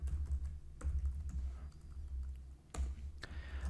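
Fingers type steadily on a computer keyboard, a close, continuous patter of key clicks with brief pauses and a few louder keystrokes, no voices.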